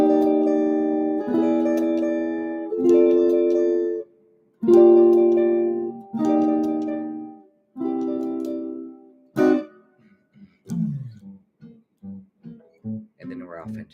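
Jazz guitar plays a variation on the intro to a jazz tune, darkened with a flat nine. A series of clear, ringing chord stabs separated by short pauses is followed by quicker single-note melody runs, close and unaccompanied.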